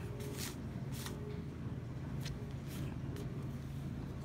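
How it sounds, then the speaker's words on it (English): A neighbor's riding lawnmower drones in a steady low engine hum close by, running continuously, with a few short brighter bursts of noise on top. "our next door neighbors just decided to get on the riding lawnmower."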